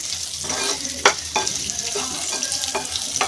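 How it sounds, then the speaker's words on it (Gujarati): Sweet potato pieces frying over a low flame with salt and chili, giving a continuous close sizzle broken by several sharp clicks and scrapes of a spoon stirring in the pan. "મસાલો નાખીને હવે આપણે આવી રીતે ફ્રાય કરવાનું છે ધીમા ગેસ ઉપર"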